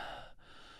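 A man imitates heavy breathing, a dramatic breathy exhale close to the mic that fades to a brief pause and then resumes, with no words spoken.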